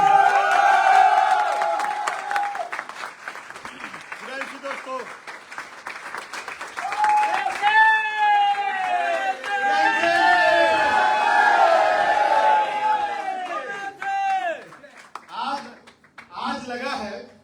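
An indoor audience at an IMC network-marketing seminar bursts into sustained applause and cheering. The dense clapping is overlaid by a loud amplified voice and shouts, and it tapers into scattered claps at the end.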